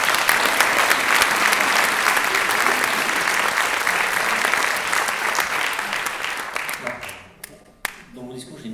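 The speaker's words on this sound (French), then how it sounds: "On mérite un petit applaudissement." An audience applauds at a town medal ceremony in Chelles honouring a citizen, dense and loud clapping that gradually thins and fades out, with a voice beginning to speak near the end.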